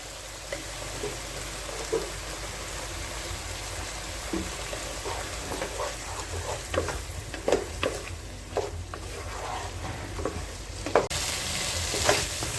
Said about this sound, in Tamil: இதை நல்லா மிக்ஸ் பண்ணிக்கோங்க.